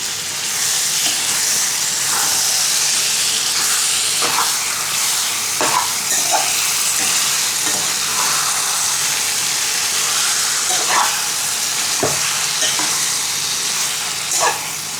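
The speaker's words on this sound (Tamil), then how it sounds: "இறால் உள்ளே போட்டு அப்படியே நீங்கள் கொஞ்சம் நேரம் கலரணும்" Prawns frying with tomato and onion for prawn thokku, a loud continuous hiss of sizzling with occasional scrapes and knocks of stirring scattered through, close by.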